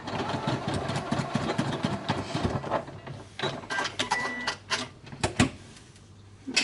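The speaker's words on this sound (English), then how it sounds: "tack stitch it a few times with the machine by reversing it" A sewing machine runs in short bursts as it tack stitches back and forth across the end of a fabric make-up bag, with a whirring mechanical rattle and brief pauses.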